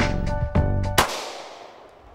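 A gunshot fired during a product test of a protective item, heard as sharp loud cracks with a final strong bang that decays into a long echoing tail.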